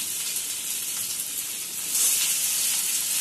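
Dried tomato goes into a hot pan of onion and chilli tempering, raising a steady close sizzle that swells louder partway through as the frying intensifies, with no talking.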